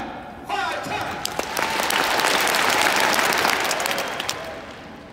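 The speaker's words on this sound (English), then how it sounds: "If you love this company and you love this brand, clap 5 times." A large conference crowd bursts into sustained applause, a dense wash of many hands clapping at once rather than distinct separate beats, steady and loud after a short voice at the start.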